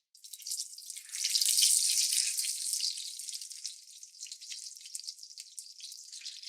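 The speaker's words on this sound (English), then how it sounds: "We want to cook the tortilla a little bit" Nixtamal corn tortillas frying in a hot pan give a steady bright sizzle that swells after the first second, then settles into a softer, crackling fry with no voices.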